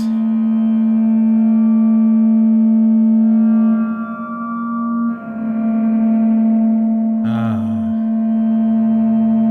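A sustained, droning feedback tone from a Eurorack spring reverb module with multiple spring tanks: a steady, harmonically rich hum that wavers midway and ends with a brief metallic clatter, with no talking.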